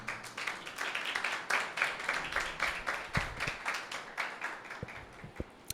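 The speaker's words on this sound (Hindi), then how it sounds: "यीशु मसीह के लिए जोरदार तालियां बजाएं।" A church congregation at a Sunday meeting claps for Jesus, a fairly quiet but steady run of many hands clapping together in a loose rhythm, with a few louder thumps near the end.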